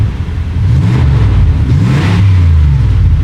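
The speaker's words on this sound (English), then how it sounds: "There's a really cool sound in the engine" A 1992 Buick Roadmaster sedan's engine runs close by, humming low and steady with a slight rise in revs partway through.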